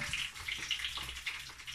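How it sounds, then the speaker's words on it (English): Tap water runs into a bowl of cut sweet potatoes in a home kitchen, a steady close splashing stream with bright hissing texture throughout. "I'm going to add water now."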